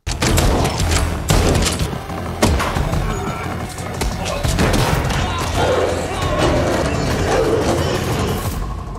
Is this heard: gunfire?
yes